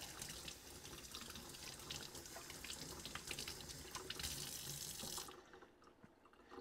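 Tap water runs steadily onto a small round milk filter disc to wet it, a close, continuous splashing flow that stops abruptly near the end.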